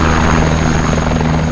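A loud, steady helicopter rotor roar with a constant engine whine, close and continuous throughout.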